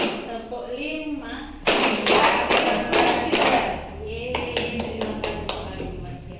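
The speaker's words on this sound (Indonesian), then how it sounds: "Tepuk 1, tepuk 2, tepuk 3, tepuk 4, konsentrasi, tepuk 5." A group of people clap in rhythmic bursts during a counting chant in a classroom, sharp loud claps arriving in clusters separated by spoken counting.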